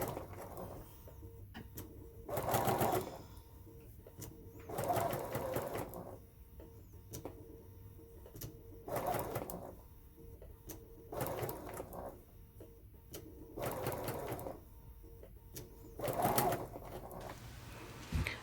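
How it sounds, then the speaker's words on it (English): A sewing machine stitches a pocket seam on a tiered maxi skirt in short, soft bursts of rapid whirring, repeated about every two to three seconds with quiet pauses between. "you're going to just stitch down and kind of pull the seam as you're sewing"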